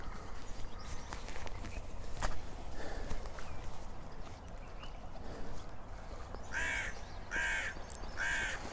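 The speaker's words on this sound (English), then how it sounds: "You heard the crow?" A crow calls outdoors with three harsh, evenly spaced caws near the end, over a faint background of rustling and footsteps.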